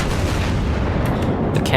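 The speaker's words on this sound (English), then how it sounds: "The cannons, the sound effects on these cannons are really good." Heavy battleship cannon fire from the USS New Mexico in World of Warships: a dense, rumbling barrage that fills the whole clip, with a few sharper cracking bursts near the end and a voice faintly underneath.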